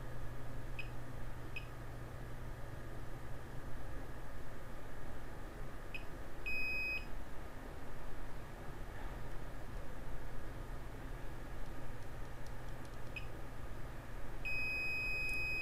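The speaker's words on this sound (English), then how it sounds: "There, you see it's beeping?" Short high electronic beeps, a few pairs and single tones spaced several seconds apart, over a low steady hum.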